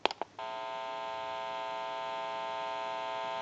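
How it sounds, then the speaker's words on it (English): A telephone test amplifier, checking a Stromberg Carlson 1543 rotary desk phone under repair, gives a few clicks and then a steady electrical hum with a buzzy harmonic tone that holds evenly to the end. "You may hear a little bit of an electrical hum."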